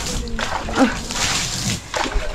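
Water splashes and sloshes in uneven bursts during rinsing, close by, with faint voices in the background.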